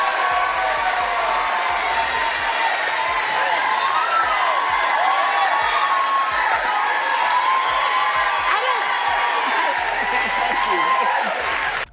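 A studio audience stands and claps, sustained dense applause with cheering and whoops rolling steadily throughout, loud and close, with talk faintly mixed in.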